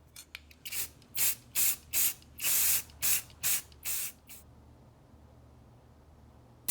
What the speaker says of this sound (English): I'm just gonna spray a light coat on here